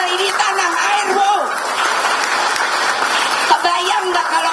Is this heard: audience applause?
yes